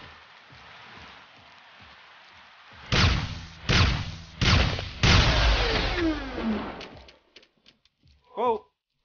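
Rain falls in the video game Helium as a steady hiss, joined midway by several loud booming bursts that fade out, followed by a few scattered clicks and a brief voice near the end.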